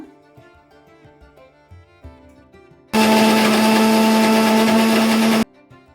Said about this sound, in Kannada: ಮಿಕ್ಸಿ ಮಾಡ್ಕೊಂಡು ಪೇಸ್ಟ್ ಮಾಡ್ಕೋಬೇಕು